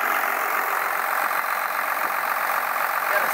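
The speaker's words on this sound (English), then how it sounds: "Most of the turbo's spooling up like it should." A pre-smog Cummins 5.9L 12-valve diesel in a 4x4 pickup runs with its turbo spooling, a steady, loud, close drone with no pauses.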